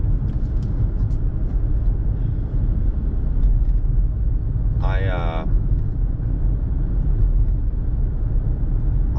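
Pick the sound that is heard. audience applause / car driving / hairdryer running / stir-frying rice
car driving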